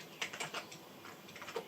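Fast, light clicking on a computer keyboard while entering a name on an Amiga setup, a quick uneven run of soft keystrokes close to the microphone, no voices.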